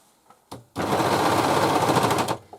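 A sewing machine stitches and trims fabric for a cushion cover, running in one loud, continuous rattling burst of under two seconds after a brief click.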